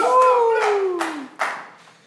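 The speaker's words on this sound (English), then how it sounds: "round of applause" A few scattered hand claps ring out over a fading, descending tone, brief and close rather than a full crowd.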